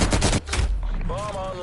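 Sentry turret gunfire in Black Ops Cold War, a loud burst of rapid shots crackling up front for under half a second, followed by quieter rumble and a rising electronic tone.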